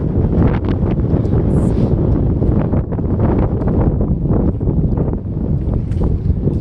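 Strong wind buffets the microphone in a steady, roaring rumble with gusty fluctuations, loud and continuous throughout with no voices.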